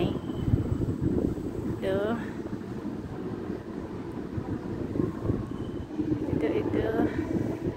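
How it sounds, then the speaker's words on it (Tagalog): A very noisy London Underground Jubilee Line train fills a station platform with a loud, continuous rumble and faint squealing, while a person speaks briefly over it. "Tapos, itong Jubilee Line, ito ang pinakaingay na, isang napakaingay na train"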